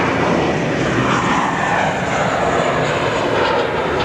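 An airplane at Phoenix Sky Harbor International Airport produces a loud, steady engine roar with a broad rushing hiss that holds throughout, heard from outside the plane.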